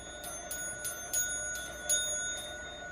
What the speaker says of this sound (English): what you're hearing is the sound of the world's first electric doorbell, invented by Benjamin Franklin in the summer of 1750